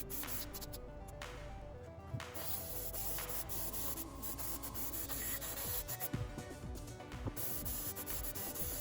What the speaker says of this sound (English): I'm gonna spray it all over the base